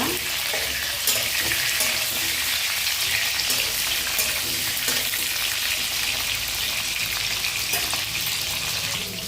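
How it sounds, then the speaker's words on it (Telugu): Bitter gourd frying in hot oil for an Andhra-style fry gives a steady, loud, dense sizzle with crackling pops, continuous throughout and without any talk. "ఇలా ఆయిల్లో బాగా వేగాలన్నమాట."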